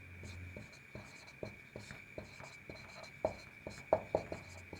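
Marker or chalk strokes on a board during a Hindi-language vector calculus lecture: quiet, uneven taps and short scratches that come in quick bursts, growing a little sharper toward the end.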